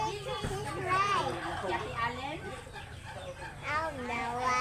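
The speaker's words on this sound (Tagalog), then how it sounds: "There's another chicken." A chicken clucks close by in repeated short calls that rise and fall, mixed with children's excited voices and chatter that overlap the bird throughout.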